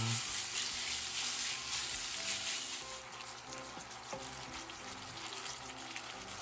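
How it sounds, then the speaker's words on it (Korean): Minced meat seasoned with seasoning salt and pepper being stir-fried in a pan for jjajang tteokbokki made with rice cake, a loud hiss of frying that fades to a softer sizzle with scraping stirs, without any talk. "다진 육을 넣어주세요. 맛소금 약간, 후춧가루 약간 골고루 볶아주세요."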